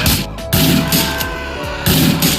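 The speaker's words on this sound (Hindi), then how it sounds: "अब जब आप किसी गन से फायर करेंगे तो उसकी आवाज पहले से ज्यादा दमदार और असली लगेगी।" Gunfire from the 2025 version of the video game GTA Vice City comes as several punchy, booming shots in quick, uneven bursts, loud and close, with a steady background rumble between them.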